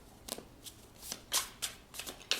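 A deck of spiritual oracle cards is shuffled by hand in soft, quiet riffling bursts at irregular intervals, close by, with no talking.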